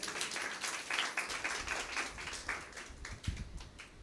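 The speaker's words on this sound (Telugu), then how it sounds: "చప్పట్లు కూడా దేవుని మహిమపరచారు." A church congregation claps together in a dense, continuous patter of many hands during a sermon, sounding moderately close and steady.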